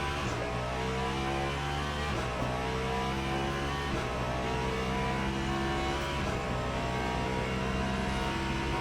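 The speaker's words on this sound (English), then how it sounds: "how little I like the sound of this car" A Cadillac race car in the Le Mans Ultimate sim racing game at Daytona gives a steady, loud engine drone that climbs and drops in pitch through gear changes, with no talking over it.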